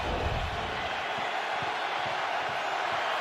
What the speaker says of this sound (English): Crowd completely back into it.